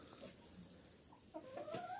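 A few hens and a bantam rooster cluck softly outdoors, a scatter of faint, brief calls over a low background hum with a couple of slightly louder notes near the end.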